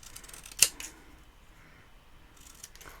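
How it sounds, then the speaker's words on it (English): A single sharp snip from long-bladed scissors cutting paper for card making, close and brief, then near silence with faint rustling. "I always use the scissors with a longer blade for this kind of cutting"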